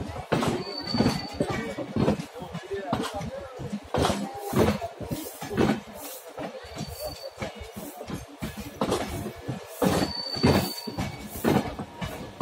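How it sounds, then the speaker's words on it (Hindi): Amritsar–Kochuveli weekly superfast express with LHB coaches hauled by a WAP5 electric locomotive passing close by, a steady rhythmic rumble of wheels over rail joints with brief squeals, while someone talks over it. "अमृतसर कोचीवली एक्सप्रेस है, और ये अपना वीकली ट्रेन है।"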